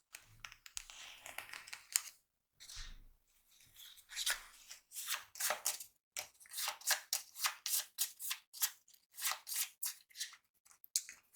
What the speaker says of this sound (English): So I'm going to shuffle them up and deal myself 2 characters.